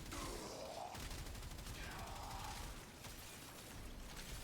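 Rapid gunfire from the Reconifex weapon in the video game Warframe, a dense, continuous barrage of shots and mechanical clatter that stays loud and steady throughout.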